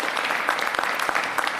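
An audience at a mayoral education announcement claps in a steady, dense patter of many hands, moderately loud and unbroken through the short stretch.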